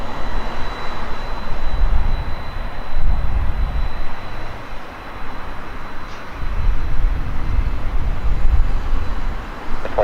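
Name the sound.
heavy Boeing 767 taking off from the runway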